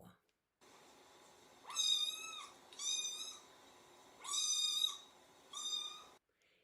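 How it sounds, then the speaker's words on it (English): Cats meowing: four drawn-out, tonal meows in two pairs, moderately loud and close, over a quiet background with no talk. "Cats meow."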